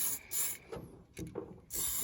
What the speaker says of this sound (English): when you're spraying it on